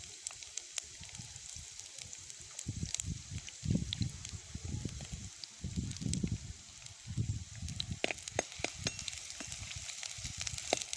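Chopped onions sizzle in hot oil in a pan for a boiled egg fry, a steady crackling hiss with low, irregular bursts from stirring throughout.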